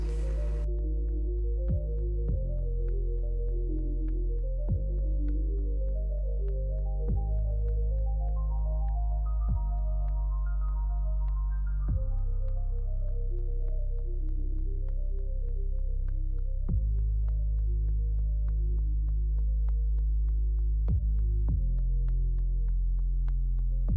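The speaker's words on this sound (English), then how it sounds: "I'm going to go in again with the vacuum as much as I can." A vacuum cleaner runs continuously while cleaning dust out of an opened original Xbox console, a loud steady motor drone whose pitch shifts up and down as the nozzle moves, with no voices.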